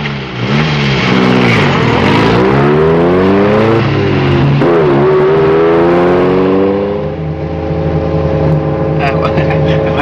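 Car driving fast, a loud engine that climbs through rising gear-change sweeps of pitch, revving hard then easing and building again, with close voices talking over it.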